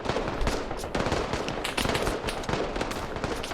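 Rapid shotgun fire in a video game, dense bursts of booming blasts in quick succession, loud and continuous.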